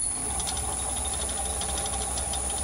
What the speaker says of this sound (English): if I start the lathe